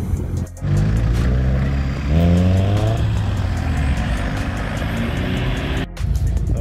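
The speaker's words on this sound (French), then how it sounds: "Et là on a cette magnifique Clio 16S qui part." A Renault Clio 16S pulling away at a Cars & Coffee meet in Châteauroux, its engine revving up through rising pitch sweeps as it leaves, fairly close and loud against a busy outdoor background, with a short break in the sound near the start.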